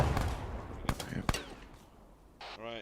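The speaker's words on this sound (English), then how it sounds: "Alright, frag out." A frag grenade goes off in Arma 3, two sharp close blasts in quick succession over a noisy battlefield background, followed by a brief burst of electronic game sound.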